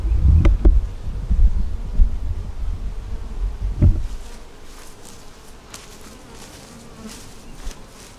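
Honey bees buzzing around an open deep eight-frame hive during an inspection, a dense close drone that is loudest at first, with a few knocks of hive parts, then settles into a softer, steadier hum.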